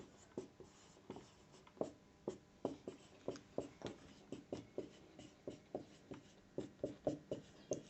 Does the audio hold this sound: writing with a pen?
yes